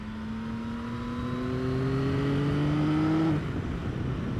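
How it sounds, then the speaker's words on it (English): A Yamaha XSR900 GP triple-cylinder motorcycle engine with Akrapovic exhaust revs up steadily, pitch climbing over about three seconds, then cuts off abruptly to a lower rumble; close and fairly loud. "they've got that savage bark, especially with this a Krapovich exhaust on"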